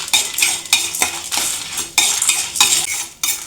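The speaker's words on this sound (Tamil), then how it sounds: "அதோட 4 வரமிளகாய் அதையும் சேர்த்து வதக்கிக்கணும்." Urad dal and dried red chillies are sautéed in a pan, with repeated scraping strokes of a metal spoon in an uneven rhythm over a soft sizzle, close and fairly loud.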